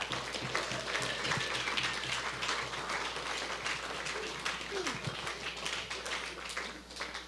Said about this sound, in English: Yeah, big, big, big round of applause.